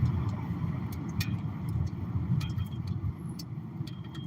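Cars move along a busy Orlando, Florida road, a steady close rumble of engines and tyres heard from inside a moving vehicle, with faint clicks and light knocks on top.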